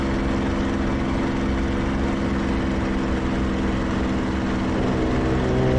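A light airplane's engine and propeller drone loud and steady at close range, a constant buzzing hum whose pitch rises slightly toward the end as the throttle is pushed forward.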